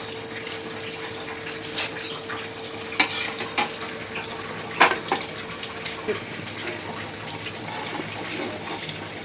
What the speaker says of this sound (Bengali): বাকি পনিরগুলো এইভাবে দিয়ে নেবো, কড়াই দিয়ে তেলে নাড়িয়ে চাড়িয়ে।